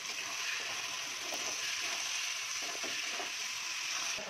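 Cashews and raisins are stirred into khichuri with ghee in a pan, giving a faint continuous sizzle with soft scraping stir strokes throughout and no talk.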